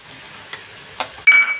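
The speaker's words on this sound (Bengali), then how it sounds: "এই মশলাটা কষানো, দেখুন এই যে তেল ছাড়তে শুরু করে দিয়েছে" Bengali spice paste (masala) frying in oil in a home kitchen: a soft sizzle under faint stirring taps, two light clinks of a spoon against the pan, then a brighter burst of hissing as the paste is stirred.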